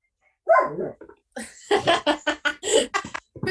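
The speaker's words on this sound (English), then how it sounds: "the added sound effect of the cute doggy" A small dog's yapping bark sounds out briefly, then gives way to a run of excited, laughing voices at close range.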